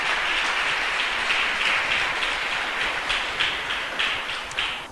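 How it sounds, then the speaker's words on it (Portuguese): A church congregation at a healing seminar applauds, a thick wash of clapping that holds steady, with a few sharper claps standing out as it begins to thin toward the end. "Você pode aplaudir o Senhor?"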